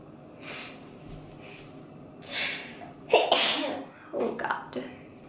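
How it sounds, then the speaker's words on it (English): A woman lets out a single sharp sneeze at close range, with a quick intake of breath before it and faint breathy noise around it, during a makeup tutorial. "Oh my god, I have to sneeze."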